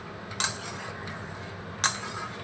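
A utensil scraping and clinking in a pan of lentils and potatoes being stirred, two sharp metallic knocks standing out over a low steady simmering background, with no talking.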